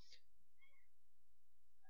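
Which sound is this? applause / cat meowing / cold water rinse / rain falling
cat meowing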